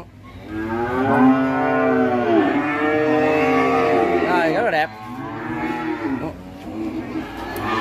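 At a Vietnamese cattle farm raising beef cattle such as BBB and French breeds, a cow gives long, loud, close moos, one drawn-out bellow running into another, with little else heard.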